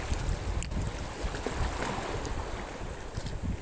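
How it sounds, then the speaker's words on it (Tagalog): Rough wind and strong waves buffet a small fishing boat, with a few sharp slaps against the hull over constant roaring noise. "Delikado, malakas yung alon."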